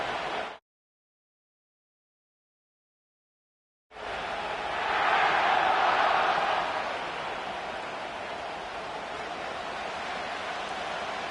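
A stadium crowd at SoFi Stadium in an EA Sports NFL video game, a broad roaring wash that swells and then settles after a stretch of silence.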